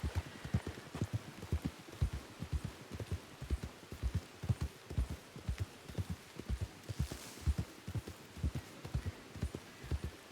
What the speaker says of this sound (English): Got 3 horses over here